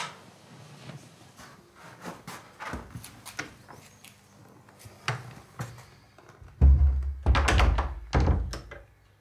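A door swung shut in a quiet room, several dull wooden thunks and knocks with handling rubs, the heaviest thuds landing near the end, close and fairly loud.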